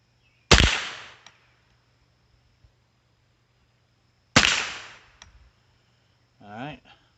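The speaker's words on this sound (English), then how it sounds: "these first 3 shots are from a cold bore" Two sharp, loud Savage rimfire rifle shots a few seconds apart, fired from a cold bore at a range, each with a short decaying tail, followed by a brief voice.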